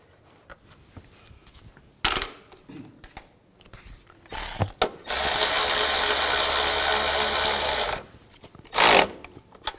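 Bolts are threaded into an intake bracket on a 2000-06 GMC Yukon engine. Close, sharp ratcheting bursts come in short clicks, then a loud sustained powered run of about three seconds, with a final brief burst.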